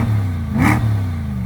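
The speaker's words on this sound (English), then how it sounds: "let's listen to the exhaust really quick." A Chevrolet Corvette C8 engine revs up briefly and drops back, a short throaty exhaust burst rising over a steady low idle, close by.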